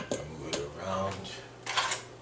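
A spatula scrapes and pushes wet grated coconut pulp around in a draining strainer for homemade coconut milk, giving a few short clattering scrapes and a longer soft rub, close and moderately quiet.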